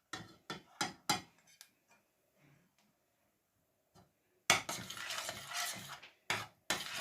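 Ground bread mix for an eggless bread pudding going into a pan: a few sharp knocks and taps, a quiet pause, then a loud rustling pour and a couple more clatters close by.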